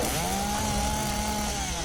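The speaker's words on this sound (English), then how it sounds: "She gripped the throttle on her chainsaw" A chainsaw revs steadily in a visual novel video game, a loud, continuous buzzing engine drone with a slightly rising pitch, heard alone and filling the moment.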